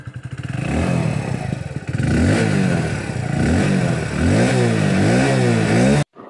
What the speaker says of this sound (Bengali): এবার এক্সস্ট নোট চেক করা যাক।